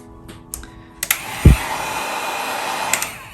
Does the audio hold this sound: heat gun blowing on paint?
yes